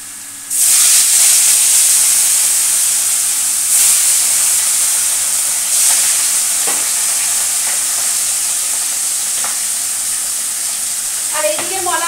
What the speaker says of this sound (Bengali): আরো মাছ রয়েছে ভাজতে হবে।